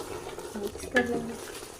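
Potato and egg curry with masala, fresh coriander and green chilli being stirred in a pan, giving a short, soft scrape with a faint sizzle and one louder clink of the spoon in the middle.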